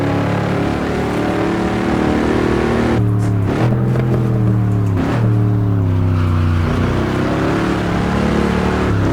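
A 1959 Corvette races at Marlboro in the Assetto Corsa driving game, a loud, close engine drone with a couple of quick gear changes and revving climbs in the middle, continuous throughout.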